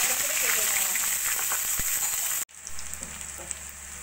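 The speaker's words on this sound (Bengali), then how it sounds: "ফোড়ন সোনালি হলে পরে দিয়ে দেবো দুটো মিডিয়াম সাইজের পেঁয়াজ, কেটে নেওয়া।" Chopped medium onions hit hot oil already sizzling with cumin seeds, bay leaf and a cardamom pod, giving a steady loud hiss that cuts off sharply with a thump, then returns as a softer sizzle.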